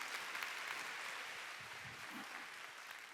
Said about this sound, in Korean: 예수님이 뺄 수 없는 걸 믿으면 박수라.